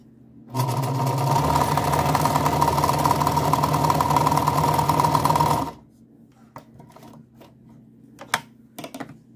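A Meister 173 sewing machine runs for about five seconds sewing a small zigzag stitch, a close, steady mechanical whir and rapid needle chatter that stops abruptly, followed by a few quiet clicks and handling sounds.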